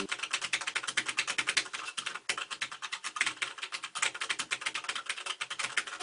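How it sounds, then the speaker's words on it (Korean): Fast typing on an ASUS ROG Claymore Core mechanical keyboard with Cherry MX Red switches, a close stream of light, even key clacks with brief pauses between bursts. "체리축을 탑재한 만큼 일반적인 기계식 키보드랑은 사운드가 거의 비교가 불가능해요 타건 사운드를 들어보면"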